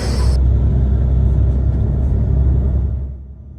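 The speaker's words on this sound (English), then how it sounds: "rumbling stampede over the bridge for the North Wales Coast train" A Transport for Wales North Wales Coast train rumbles over a bridge, a loud, heavy, continuous low roar close by that holds steady for about three seconds before fading away.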